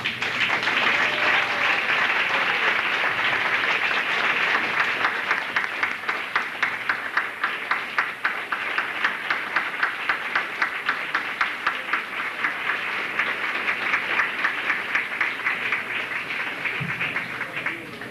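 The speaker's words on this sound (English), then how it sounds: "Jean, as you can tell by the applause, you are well recognized and respected in this state." An audience at a Democratic committee gathering in New Hampshire applauds an honored attendee with sustained, dense clapping that develops a faint rhythmic pulse, carrying on steadily for many seconds at a moderate distance.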